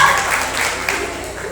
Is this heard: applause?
yes